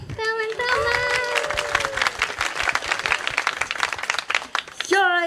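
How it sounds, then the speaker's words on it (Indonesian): A live audience at a JKT48 Gen 12 idol stage show claps and cheers loudly and steadily, with excited shouts and a high voice carrying over the crowd at the start and again near the end. "Tepuk tangan dong!"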